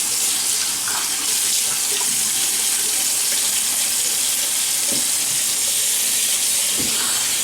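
A tap runs at a steady, loud, hissing flow into a sink while a man wets his face with about a week of stubble before shaving, with faint splashes near the end.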